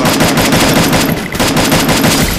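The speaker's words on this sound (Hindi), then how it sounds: "एम पी फोर्टी से लग जाएगा तेरा हेड शॉट" MP40 submachine gun fire in a video game, a rapid continuous burst of loud automatic shots that stutters briefly partway through and then resumes.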